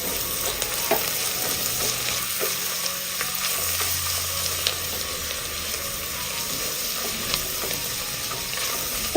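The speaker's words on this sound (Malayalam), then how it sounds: "ഇതൊന്ന് ഇളക്കി കൊടുക്കുക." Chili powder and onion masala frying and being stirred in a pan: a steady, close sizzle with occasional scraping strokes of the spoon, continuous and even throughout with no talking.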